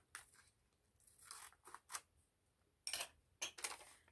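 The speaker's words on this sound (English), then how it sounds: "Actually, I'm going to cut it in half," Scissors snip through a paper receipt in several short, crisp cuts, with quiet pauses between them; close and fairly soft, with no voice.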